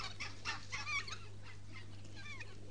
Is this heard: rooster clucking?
yes